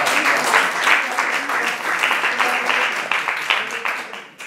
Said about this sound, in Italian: Un applauso a Mimmo Morabito, il nostro pubblico.